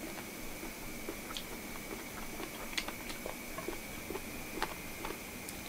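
Close, quiet chewing of chicken feet, with small crunchy crackles and soft moist clicks at irregular intervals over a steady low hiss and no talking.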